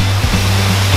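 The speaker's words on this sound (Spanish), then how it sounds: "¡Miren esa enorme cascada, amigos! ¡De 3 pisos!" A large three-tier waterfall roars as a loud, steady wash of rushing water, close and continuous, with no talk over it.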